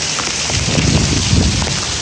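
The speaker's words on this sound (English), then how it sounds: "It's pouring" Heavy Florida summer rain pouring down, a loud, dense and continuous hiss of drops hitting surfaces close by.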